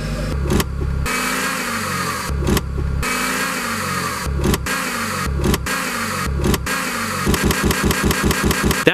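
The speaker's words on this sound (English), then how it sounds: "If you got a really heavy clunking noise coming from your engine compartment when you shift into reverse or drive" A worn motor mount on a 2000 Chevy Cavalier lets the running engine clunk heavily, with a loud idle broken by repeated knocks and lurches and a fast burst of clunks near the end.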